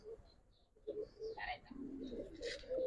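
A Giribaz pigeon from a pallah breeding line gives faint, close throaty coos in short bursts against a quiet room, with a few light chirps and rustles between them.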